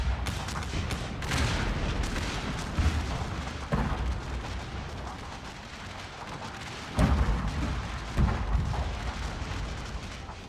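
Civil War artillery bombardment at the Battle of Gettysburg in a strategy game, a continuous rumbling barrage with heavier booms bursting out at intervals, dense and steady with no voices.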